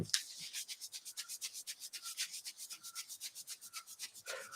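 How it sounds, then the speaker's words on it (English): Hands briskly rub the lower back and kidney area during a Qi Gong and Do-In self-massage, making a fast, even series of soft friction strokes, close and fairly quiet with no talk. "rubbing your lower back and kidneys"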